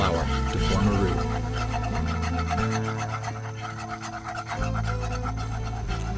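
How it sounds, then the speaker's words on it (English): Flour is whisked into melted butter in a pan to make a roux, giving a continuous close scraping and rubbing over a bed of steady tonal background sound. "Once melted, whisk in half a cup of flour to form a roux."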